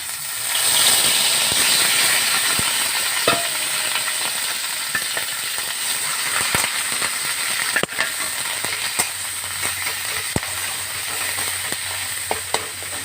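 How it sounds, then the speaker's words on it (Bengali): Pumpkin leaf paste stirred in hot oil, giving a steady close sizzle and hiss throughout with scattered clicks and scrapes from the stirring. "এবারে আমি পাতাটাকে শুধু তেলের মধ্যে নেড়ে নেবো"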